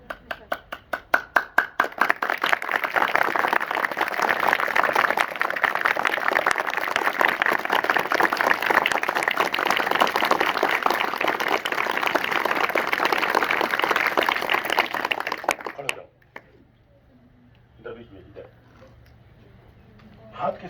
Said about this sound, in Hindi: ताली तो बजाया ही नहीं, मैं बजाऊंगा तेज